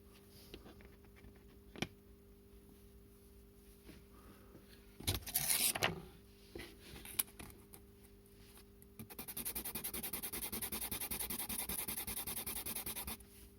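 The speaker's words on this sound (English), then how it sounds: "Back to the trusty nail file." Nail file rasping on a small part from an HO slot car motor, a steady close scraping stroke sustained for several seconds near the end after a few earlier clicks and handling sounds.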